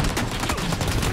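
Gunfire in the battle royale game PUBG: rapid, loud, close bursts of shots in a continuous rattling volley, with no talking.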